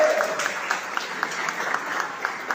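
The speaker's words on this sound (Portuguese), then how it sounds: "palmas para esse instante" Applause from a church congregation during a service, a steady patter of many hands with a few sharper claps standing out, moderately close and continuing without a break.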